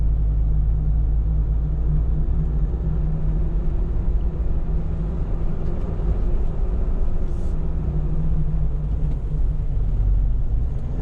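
A Jeep on 40 inch tires rolls down the road, heard from inside the cabin as a constant low rumbling tire hum and drone that holds steady throughout, with no talking.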